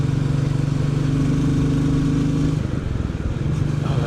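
A Royal Enfield Bullet 350 thumps along under load on a Saturday road ride, its engine a continuous close drone with steady low harmonics that drop in pitch near the end as the rider eases off.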